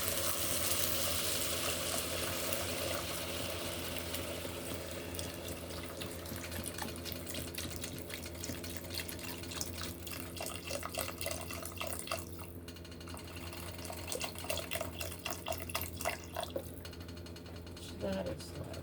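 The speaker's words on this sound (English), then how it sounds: "we are going to add in some vegetable stock here" Vegetable stock pours and splashes into a pot of lentil soup, a soft continuous liquid trickle fading under the sizzle of cooking, with brief clinks near the end.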